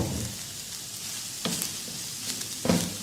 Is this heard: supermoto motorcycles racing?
no